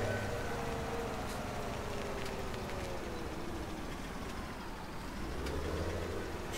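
A tractor engine pulling a baler in the Farming Simulator 17 farming game, a steady low drone that rumbles continuously at moderate distance, with no talk over it.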